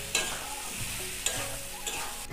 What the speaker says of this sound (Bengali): দিয়ে আমি আবার ভালো করে কষে নেব।